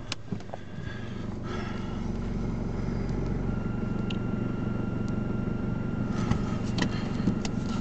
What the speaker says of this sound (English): We'll just start the car up.